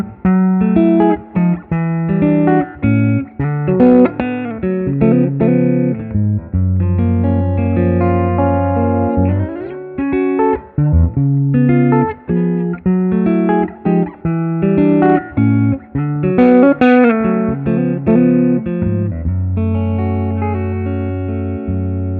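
Electric guitar, a Fender Custom Shop Strat, plays through a hand-wired Vyse Renegade tube amp with reverb at about halfway, clean jazzy chords and single notes ringing out in a steady phrase, loud and close.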